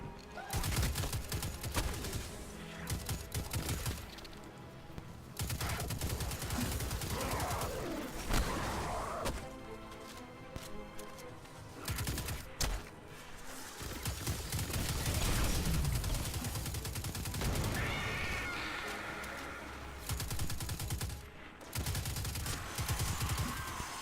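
Assault rifle fire in Destiny 2 crackles in repeated bursts over about twenty seconds, dense volleys broken by short gaps, with birdlike coos and other game sounds mixed in.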